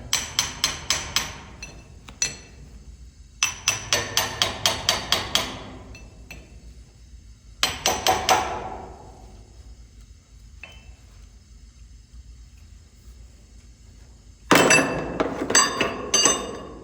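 A hammer strikes a flat chisel against cast iron in several quick bursts of sharp, ringing metallic blows, each run of hits separated by quiet gaps, loud and close.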